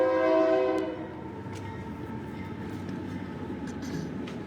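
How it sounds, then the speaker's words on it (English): A passing train blows its horn loudly at the start, the blast fading after about a second into the rumble and clatter of rail cars rolling by at a moderate distance. "This train going by is for you, honey."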